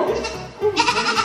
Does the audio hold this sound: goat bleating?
yes